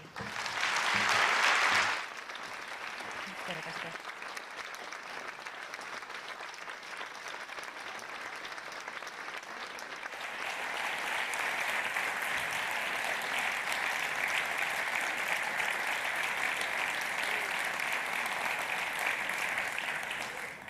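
Sustained applause from a large crowd at an awards ceremony in Biscay, Spain, a steady wash of clapping that swells louder partway through and continues for a long stretch.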